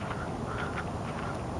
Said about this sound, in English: Y'all look at the ducks.